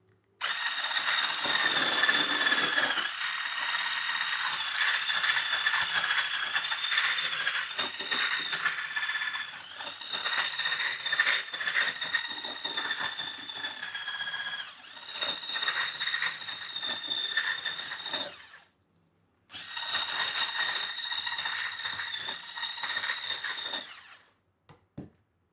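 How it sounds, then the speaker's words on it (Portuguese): Electric mixer beating chiffon cake batter with cream of tartar as sugar is added a little at a time: a continuous, close whirring motor drone with a rattling beater texture, briefly stopping twice before cutting off at the end. "E agora, adicionando o açúcar aos pouquinhos e batendo."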